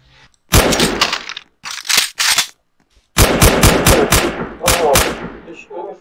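Rapid bursts of automatic gunfire from a superhero tycoon video game, loud and close, coming in several clustered volleys separated by short gaps.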